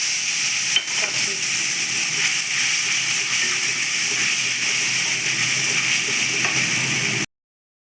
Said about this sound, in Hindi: एबे मोर तेल गरम हो जाइए। मु रखी मसला को